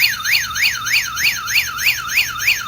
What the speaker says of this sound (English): So now if there's motion detected, now you can hear the alarm.